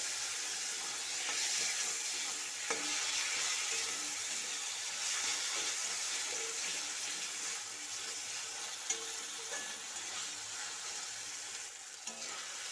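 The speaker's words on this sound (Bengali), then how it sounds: "টমেটো দেওয়ার পর কষিয়ে নিয়েছি, টমেটো এখন নরম হয়ে গেছে।" Chopped tomato cooks in a pan for a Bengali peas kofta curry, giving a steady soft sizzle throughout with occasional faint clicks of stirring.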